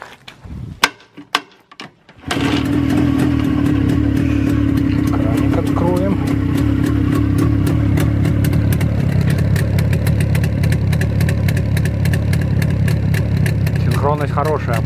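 After a few seconds of quiet clatter, a VAZ 2107's engine cranks and catches, then settles into a loud, steady idle up close that carries on without a break, with faint bursts of something higher near the end.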